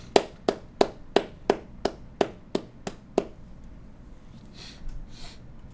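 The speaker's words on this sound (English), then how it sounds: "Round of applause." About ten slow, evenly spaced handclaps, crisp and close, sounding like a single person or a small group clapping during a May 2014 animation webcast, then dying away into quiet room noise with faint rustling.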